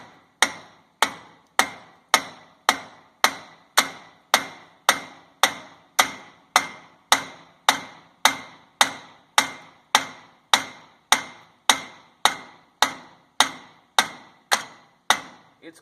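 Steady, evenly spaced metal hammer blows on the front axle joint of a 2010 Ford F250 4x4 truck, around two dozen sharp ringing strikes in a regular rhythm, loud and close with no talking.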